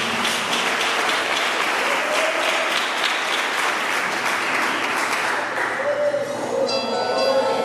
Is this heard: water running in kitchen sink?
no